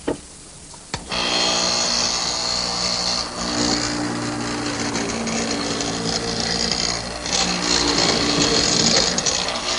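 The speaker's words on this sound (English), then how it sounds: "I'm going to use a tool that's dedicated to mortising" A hollow chisel mortiser with a 1/2-inch square chisel around a center drill bit cuts a mortise in wood, its motor kicking in after a quiet second and running as a loud, steady whine with grinding.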